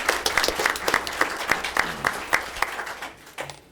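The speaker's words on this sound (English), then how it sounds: "Can we give them another round of applause?" Applause from an audience at a school board of education meeting, a steady patter of many hands clapping at moderate distance that keeps going and fades out near the end.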